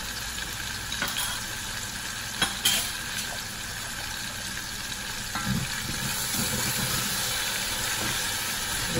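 Chopped tomatoes sizzle in a teaspoon of butter in a pan for brown stew chicken, a steady close frying hiss with a few soft scrapes and knocks from stirring.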